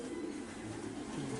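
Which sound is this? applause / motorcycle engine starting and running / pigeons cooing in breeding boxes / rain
pigeons cooing in breeding boxes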